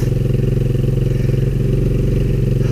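Warm 150cc GY6 scooter engine with a flooding carburetor idling steadily up close, a loud, even low putter with slight clatter.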